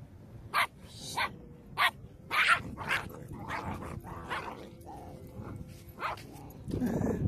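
Several puppies bark and yip in sharp bursts, with growls and whimpers between them, close by and scrappy, as if scuffling.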